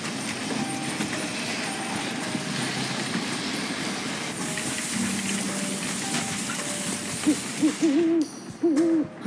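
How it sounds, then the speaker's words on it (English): A deep owl hoot in The Red Lantern video game. It repeats several times near the end, each a wavering call over steady outdoor ambience with a low rumble. "there's an owl somewhere nearby"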